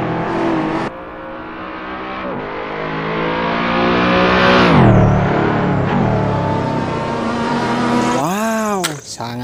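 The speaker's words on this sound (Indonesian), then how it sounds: "Ada mobil balap." A toy race car's engine sound revs and climbs in pitch, roaring louder then fading, followed by a quick rising-falling whine near the end.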